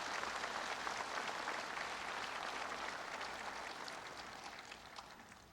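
Steady, dense applause from a large crowd at a Memorial Day ceremony, sustained and fairly distant, fading slightly toward the end.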